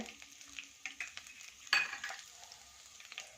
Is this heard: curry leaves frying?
yes